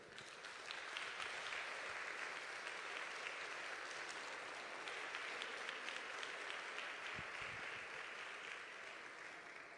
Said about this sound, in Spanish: Bueno, denle un aplauso al Señor.